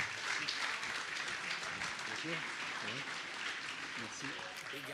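An opening party crowd applauds a Mizuno France director, a broad rustle of clapping mixed with chatter and voices, moderately loud and gradually easing.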